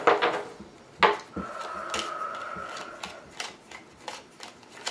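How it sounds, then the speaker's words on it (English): Tarot cards being shuffled and riffled in several quick bursts, soft papery flutters and taps close by, with a faint steady hum in the background. "I'm never counting the number of cards I need while I'm shuffling."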